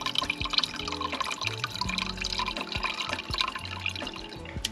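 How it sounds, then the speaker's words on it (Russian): Water is poured into a small household appliance just connected indoors, giving a close, steady trickle with scattered drips and splashes over the full stretch, no talking. "Сейчас подольем водички."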